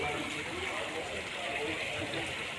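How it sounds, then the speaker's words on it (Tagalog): Steady, dense rush of falling water from a waterfall at a resort in Sabah, Malaysia, a constant broadband roar filling the whole stretch with no breaks. "Waterfall."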